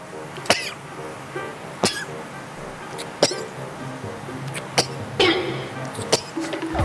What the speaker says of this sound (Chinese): 奇怪，没有放胡椒怎么打喷嚏的？